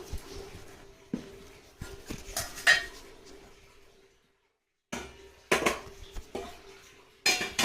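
Hot rice being served onto a plate for a home meal, with irregular close clinks and knocks of dishes and cutlery, a short quiet pause midway, and no talking.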